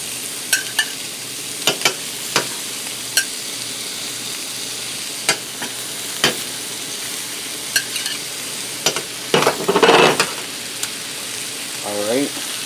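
Salisbury steaks fry in a pan beside mushrooms, a continuous sizzle with scattered sharp clicks of a utensil and a brief louder flare of spatter near the end.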